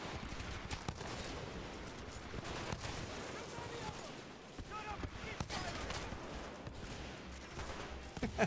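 Gunfire from the video game Titanfall 2: rapid, overlapping shots and bursts crackle throughout, with people talking over the shooting.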